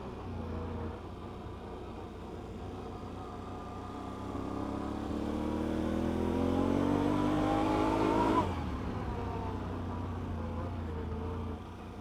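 A Polaris Scrambler or Can-Am Renegade ATV's V-twin engine accelerates, its loud droning note climbing steadily in pitch before cutting back abruptly and settling to a lower idle-like hum.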